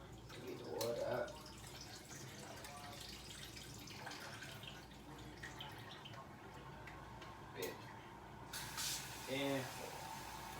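Food rinsed under a running kitchen faucet, a faint continuous spray and patter of water with a few drips and clatters, heard close and low with some indistinct voice in the background.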